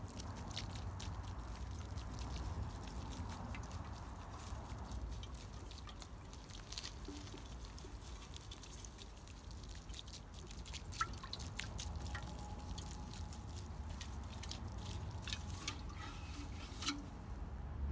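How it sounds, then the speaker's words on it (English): Freshly planted garlic in garden soil being watered, with water trickling and dripping steadily onto the ground in light irregular patters, quiet and close, no talking. "And then we'll go ahead and give it a little water."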